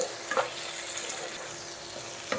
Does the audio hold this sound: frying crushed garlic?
yes